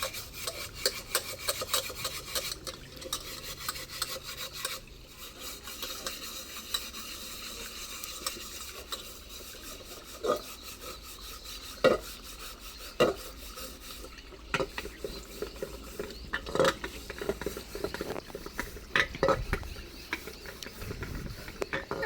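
A pot being scrubbed by hand at home: steady close rubbing and rasping strokes with intermittent clinks and knocks of metal, fairly quiet, with no voices.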